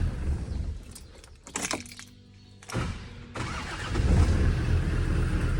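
JCB machine engine cranking and catching after a faulty start, with starter bursts and a stuttering pause before the diesel settles into a rougher, steady running rumble, close by with no talk.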